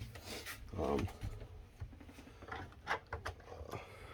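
Plastic drawers at the bottom of an RV refrigerator slide back into place with soft knocks and scrapes, close by, amid light handling noises and faint talk.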